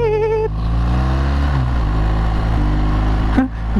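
A BMW R1200GS-A K51 boxer engine drones loud and close while riding, its pitch sliding down and back up as the gears change, with a sharp clunk near the end.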